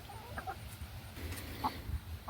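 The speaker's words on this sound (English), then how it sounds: "check into what it's like to feed 14 chickens" Several chickens in a backyard coop before feeding, giving scattered soft clucks and brief calls over a steady low outdoor hum, fairly faint and at a modest distance.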